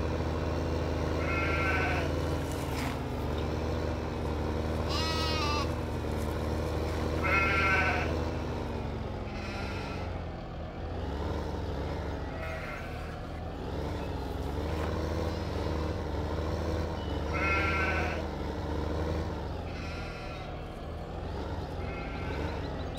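Sheep in the video game Farming Simulator 15 bleat repeatedly in short wavering calls spaced a few seconds apart, layered over a steady low vehicle engine hum that runs throughout.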